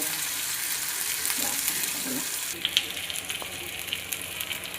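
Fish frying in hot mustard oil, a continuous bright sizzle that sharpens partway through, with faint crackles and soft stirring, close and fairly quiet.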